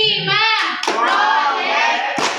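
A classroom of children performs a rhythmic P5 clapping chant in a Pancasila lesson, hand claps mixed with chanted young voices, loud and close throughout.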